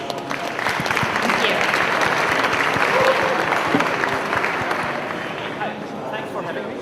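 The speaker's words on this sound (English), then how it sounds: "Round of applause, please." Audience applause welcoming a speaker onto the stage at a tech conference, dense clapping that swells quickly, holds loud and even, then thins out toward the end, with faint crowd murmur underneath.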